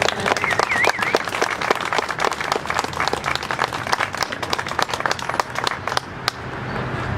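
Steady applause from a crowd at a ribbon-cutting event on a hot day, many hands clapping continuously for several seconds before gradually thinning out near the end.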